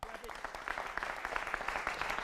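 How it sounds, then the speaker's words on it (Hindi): Studio audience applause on a Hindi television debate show, a dense, fairly quiet crackle of many hands clapping steadily through the whole stretch. "जोरदार तालियां।"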